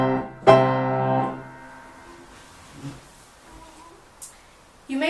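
Piano playing a Clementi passage with tenuto touch and sustain pedal: a single loud chord struck near the start rings and decays over about a second, followed by faint soft notes and a brief louder chord at the end.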